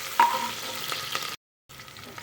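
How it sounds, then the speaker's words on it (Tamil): Chopped onions sautéing in a pan for vegetable pulao, a steady broadband sizzle with a few scraping stirs, broken by a brief silent gap before the frying resumes. "இப்போ நம்ம கட் பண்ணி வச்சுருக்க வெங்காயத்தை சேர்த்துக்கலாம். இது கொஞ்சம் நல்லா வதங்கட்டும்."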